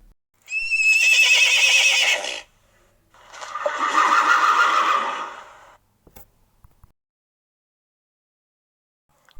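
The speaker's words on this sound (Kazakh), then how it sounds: "жылқы" A horse whinnies twice in loud, close succession, each neigh long and shrill with a shaking, falling tail, followed by a few faint clicks and then quiet.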